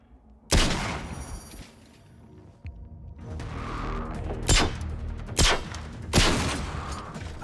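Several sharp, loud gunshots ring out one by one at irregular intervals over a low rumbling background in the video game Generation Zero, with no talking.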